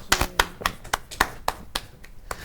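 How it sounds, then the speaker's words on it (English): Sparse, thin applause from a small audience at a code jam: a handful of separate claps in an uneven rhythm, fairly quiet and close, with no other sound around them. "That was some lame applause, Josh."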